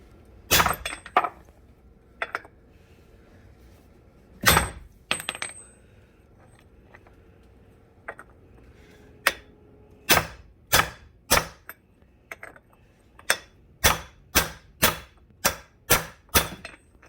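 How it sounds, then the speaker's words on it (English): Repeated sharp metallic whacks on a stuck part of a van, loud and close, coming as scattered single hits at first and then as a quick run of evenly spaced blows near the end. "gonna give this thing a few more whacks and see if it'll come out"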